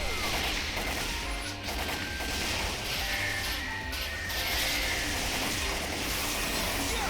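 An explosion event rages in the online action game Phantasy Star Online 2, a loud, dense barrage of blasts and crashing impacts rolling continuously without pause, with no speech.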